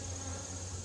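Honey bees hum in a hive during a varroa mite check, a faint steady buzzing drone that holds evenly through a brief moment.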